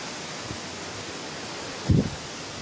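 The Glandieu waterfall flowing, heard as a steady broadband rush that stays constant and moderately loud, with one brief low bump near the end.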